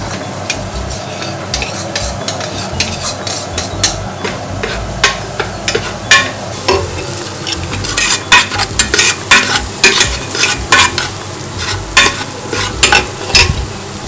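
TVP textured vegetable protein fries in a pan while a utensil stirs it, giving a continuous close sizzle under repeated sharp scraping and clacking strokes that grow busier toward the end, with no talking.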